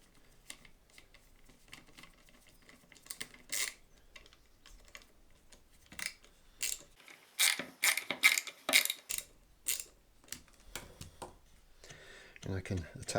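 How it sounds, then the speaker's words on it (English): Small ratcheting clicks and scratchy turning sounds of a small screw driven into a Stratocaster neck's tuner hole come in irregular bursts, growing busier toward the end, with a voice faintly in the background. "I'm just going to stick a little screw in one of the tuner"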